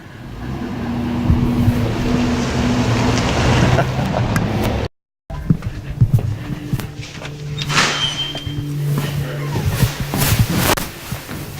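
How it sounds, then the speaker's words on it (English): A car goes by on the street outside a trike shop, a broad whooshing rush that swells and recedes, followed by scattered clatter and knocks; no speech is heard over it. "Wait till the car goes by."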